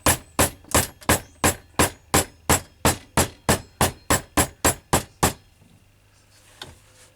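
A hammer rings on metal against an anvil in about fifteen sharp, evenly spaced blows, loud and close, then stops and leaves a quiet room hum.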